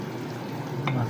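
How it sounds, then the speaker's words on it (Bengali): Hilsa fish fries in spices in a pan while being stirred, giving a steady close sizzle with a brief scrape of the stirring near the end. "এখন এগুলো একটু নেড়ে ছেড়ে দিলাম যাতে মশলা ভালো করে মাছের সাথে লেগে থাকে"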